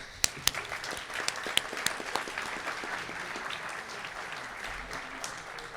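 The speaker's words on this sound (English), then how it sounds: "One more round of applause." Sustained audience applause fills a hall at an Eagle Scout Court of Honor, steady clapping from a crowd with a few sharper nearby claps, no speech over it.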